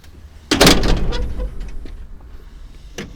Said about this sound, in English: Once you release the latch, you can pull down.